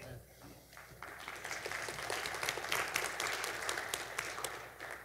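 A church congregation applauds after a sermon point, a swelling wash of clapping that builds over a few seconds and then holds at moderate level, heard from across the room.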